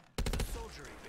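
An MG82 machine gun fires in Black Ops 3 custom zombies, a quick burst of four sharp rapid shots followed by a fading ringing tail, close and loud.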